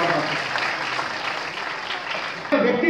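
An audience at a musical program applauds warmly, a dense steady patter of many hands clapping throughout, fairly close and loud, with a shift in tone near the end.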